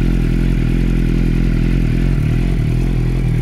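Suzuki GSX-R600 with a Leo Vince SBK end can and no baffle, idling as it warms up, a loud rough close-up engine burble with a steady low throb and slight rise near the end.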